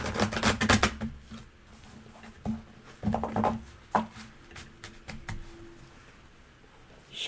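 Soft riffling and tapping of tarot cards being shuffled, in irregular bursts of crisp slaps with quiet pauses between, close and fairly faint.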